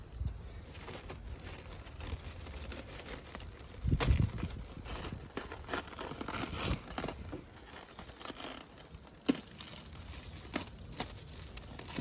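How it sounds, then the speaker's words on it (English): Plastic wrapping is cut and torn away from a large RC excavator, about 103 pounds, in quiet crinkling, tearing and rustling bursts, with a few louder crackles and bumps, close by and with no talk. "I guess I gotta carefully cut this plastic away"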